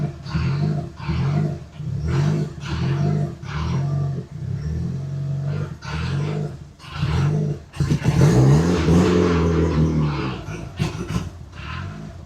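A Mitsubishi Evo 8 engine with an Exedy twin-disc clutch idles in a rough, pulsing rhythm, then revs and moves off with a louder, rising surge up close.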